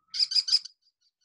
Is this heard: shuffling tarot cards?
no